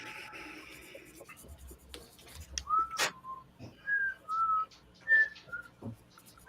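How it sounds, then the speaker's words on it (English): A person whistles a short theme-song melody in a few clear, separate phrases, fairly quiet and close, with light scratching and background noise around it. "whistling our theme song"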